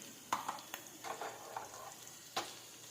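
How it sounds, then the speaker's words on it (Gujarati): Sesame seeds sizzle in hot oil with a few sharp pops and scattered crackles over a faint, quiet background hiss. "હવે આપણે ગેસ બંધ કરીને તલ નાખી દઈશું"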